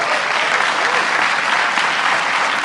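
Audience applause from a crowd at a political address, a dense, steady clapping that stays loud and close for the whole stretch with no voices over it.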